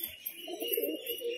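Pigeons of fancy breeds kept for sale coo nearby, a soft low throaty rolling burble rising in the middle, with faint ambient hiss behind.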